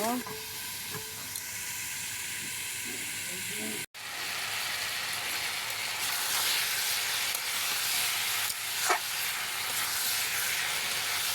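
Bottle gourd frying in oil in a covered pan for a fish curry: a constant, dense, hissing sizzle close by, briefly cut off once, with faint voice early on.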